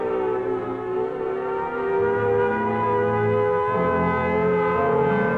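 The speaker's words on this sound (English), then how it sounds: "the alert will be a warbling siren blast, lasting 3 minutes" A loud, sustained warbling civil defense air raid siren wails with layered droning tones, holding steady and rising slightly in intensity, with no talking.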